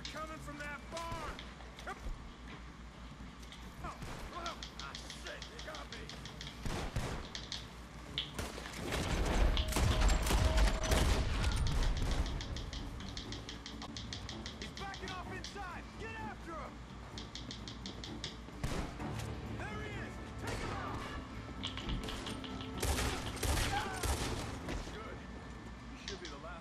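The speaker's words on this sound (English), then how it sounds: "The gunshots are coming from that barn." Rapid bursts of gunfire in Red Dead Redemption 2 crackle in clusters from a barn, loudest in a heavy volley midway, with people talking over the shooting throughout.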